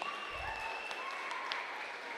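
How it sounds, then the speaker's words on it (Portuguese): Applause from an audience for Clara, a steady even patter of clapping that holds at moderate level throughout, fairly quiet overall. "Uma salva de palmas para Clara"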